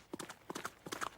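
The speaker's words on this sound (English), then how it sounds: "he could hear the sound of horses' hooves" Horse hooves clop along a forest path in a 1980s children's cartoon, three quick clusters of hoofbeats at a trotting rhythm, fairly faint and with no voices.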